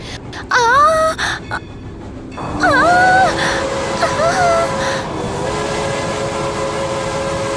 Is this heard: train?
yes